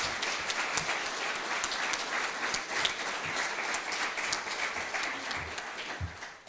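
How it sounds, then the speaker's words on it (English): A retirement-ceremony audience at Edwards applauds steadily for several seconds, a dense, even wash of many hands clapping at moderate distance with no talk over it. "I'd like to give a round of applause to everybody that made the trip here to Edwards to be here."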